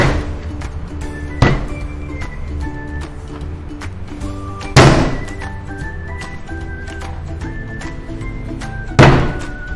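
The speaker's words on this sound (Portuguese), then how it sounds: "E agora vamos fazer aquela tradicional pancada para abrir a placa." A slab of pottery clay is slammed onto a wooden work table three times at spaced intervals, each a loud, dull thunk, with quieter handling taps and soft background music between the impacts.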